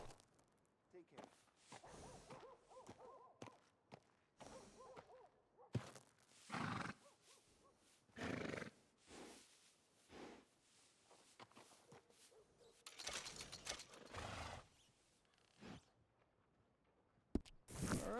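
Horse whinnying and hoof clops in the Red Dead Redemption 2 video game, heard as scattered neighs and bursts of movement among quiet gaps, with speech at times.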